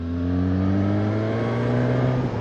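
A Suzuki Katana motorcycle with a four-cylinder GSX-R-derived engine revs hard and close, a loud, sustained, smooth multi-cylinder howl with a steady tone that rises slightly.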